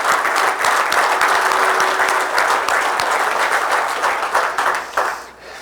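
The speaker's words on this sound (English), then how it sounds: "how about a little applause for their event?" A crowd at an automotive technicians' training event breaks into loud, full applause close by, holding steady before thinning out and fading near the end.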